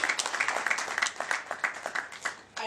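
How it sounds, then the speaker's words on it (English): A conference audience at a cocktail party and expo launch claps in distinct, fairly quick bursts, the individual hand strikes standing out before the sound cuts off near the end. "I'm sure you can also give ourselves a round of applause"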